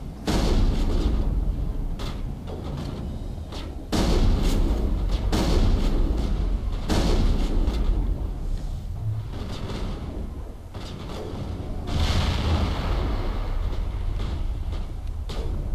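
Repeated loud booming gunshots with sharp onsets, some in quick bursts, over a constant rumbling background in Mass Effect: Bring Down the Sky, sounding like intense combat.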